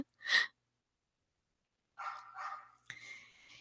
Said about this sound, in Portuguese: ele vive na porta, na janelinha dele, latindo para quem passa